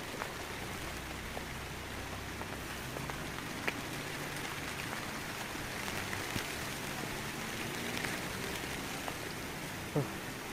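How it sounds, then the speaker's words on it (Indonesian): Rain falls steadily in a rural village beside rice fields, an even hiss of drops with occasional close patters and ticks on a nearby surface, and brief faint talking. "Aduh, hujan."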